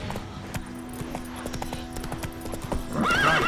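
Roach, Geralt's horse in The Witcher 3, clip-clops along in a steady hoofbeat rhythm, close and clear, before a loud whinny breaks out at the end.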